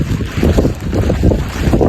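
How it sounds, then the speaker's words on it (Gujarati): Strong wind buffets the microphone with a steady, heavy low roar that gusts up and down throughout, with a faint wash of water underneath, during rain in Junagadh. "એટલો પવન આવે કે આપણને ઉડાડી નાખે"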